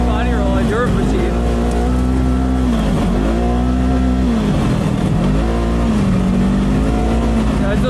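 A vehicle lapping a paved road course in British Columbia, its engine droning close and loud throughout, the pitch sagging and climbing again in repeated swells as it slows and accelerates.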